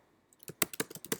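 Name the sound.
typing on a computer keyboard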